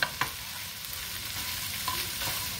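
Liver and onions sizzle and fry in a pan for Vietnamese pâté, with a steady crackling hiss and a few faint clinks of stirring.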